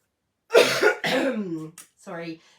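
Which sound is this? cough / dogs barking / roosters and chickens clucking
cough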